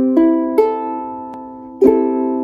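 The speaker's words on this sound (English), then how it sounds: "Now your ukulele should sound like this." A tuned ukulele is strummed four times at an even pace, each chord ringing out and slowly decaying between strums, close and clear with no voice.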